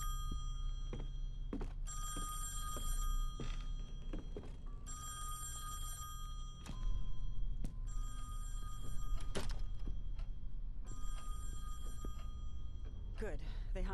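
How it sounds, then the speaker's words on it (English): A telephone bell rings repeatedly inside the mansion in the horror video game Song of Horror, in a steady series of long rings separated by short pauses, with low ambient rumble and occasional thuds underneath. "The phone. Should I answer?"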